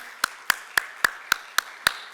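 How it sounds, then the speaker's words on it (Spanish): Evenly spaced sharp claps, about eight in a row at a steady beat, close and distinct, as an audience at a biodiversity business conference welcomes a speaker. "Recibámosla con un fuerte aplauso, por favor, a continuación."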